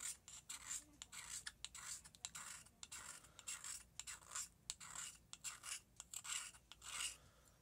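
A knife scrapes shavings off a magnesium fire-starter block in repeated short rasping strokes, close and crisp with brief gaps between passes, no voices.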